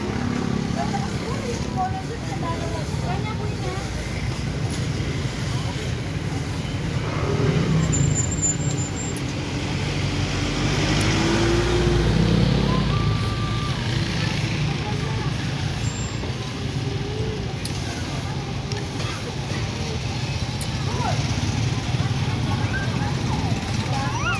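Road traffic with a truck passing on a street in Candaba, a steady vehicle rumble that swells around the middle, with people talking nearby.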